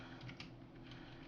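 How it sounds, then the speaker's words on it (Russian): Keys tap quietly and steadily on a Xiaomi YueMi MK02S mechanical keyboard, a faint run of soft presses over a low background hum with no talking. "если набирать текст, кнопки нажимаются без щелчка"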